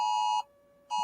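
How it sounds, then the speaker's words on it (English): A phone sounds an Amber Alert as a loud, steady electronic tone, close and alone. It cuts out briefly before the same shrill beep starts again. "I heard some beeping. I'm glad it's an Amber Alert"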